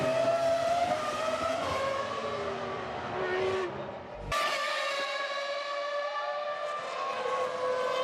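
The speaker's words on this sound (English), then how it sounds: "And here is Montoya exiting that Parabolica to complete the lap and go through" Formula One cars at Monza during the 2001 Italian Grand Prix, high-pitched V10 engines screaming past as whining tones sweep up and down, loud and steady with a brief cut to another car midway.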